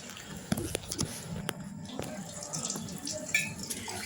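Tap water runs into a sink while dishes are washed after a meal, a steady soft splashing stream with a few sharp clinks of plates nearby.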